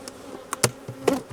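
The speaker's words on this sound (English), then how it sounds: "The bees look healthy, they're flying around okay" Honeybees flying around an open hive during an inspection, with brief buzzing passes coming and going close by over a quiet background.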